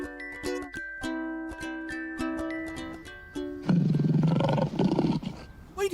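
A lion lets out a loud, rough roar that rises suddenly after an upbeat musical jingle with plucked notes and continues strongly to the end.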